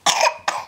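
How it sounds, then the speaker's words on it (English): A young child coughs twice, close and loud, a longer first cough followed by a shorter second one, at home on Christmas. "And a cough."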